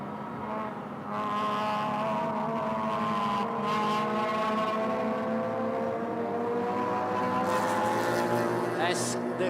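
Race cars on the circuit during a Malaysia Championship Series race, engines droning loudly and continuously with shifting pitch as cars pass, a sustained near roar with no talk.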